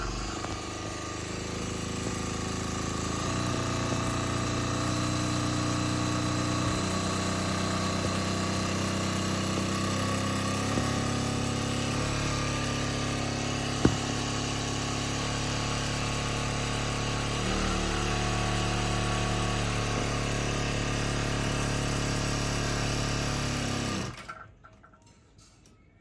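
A sewing machine motor whirs steadily for about twenty-four seconds while winding thread onto a bobbin, its hum shifting slightly in pitch before cutting off near the end.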